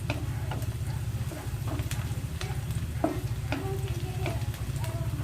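Onions and alamang shrimp paste sizzle steadily in a pan, a constant frying hiss with faint scraping and tapping from stirring, no voices.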